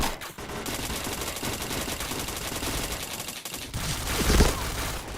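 Rapid gunfire bursts crackle through a shooter video game, dense and continuous with a louder burst near the end, under faint game ambience.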